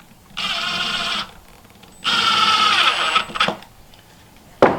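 A screw is driven into a wooden block for sawmill plans, two steady bursts of a power driver's whirring motor, the second longer, followed by a couple of clicks and a sharp knock at the end.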